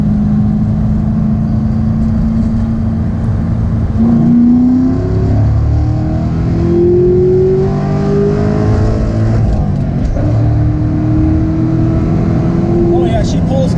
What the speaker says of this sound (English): It's a good rev match. Throttle on this is very sharp, too.